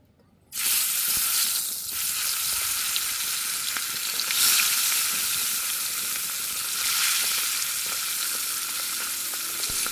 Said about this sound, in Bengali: চলো মাছটাকে ভেজে নিই